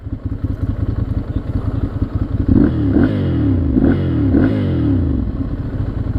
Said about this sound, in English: All right, well, we'll get some good RPMs out of this.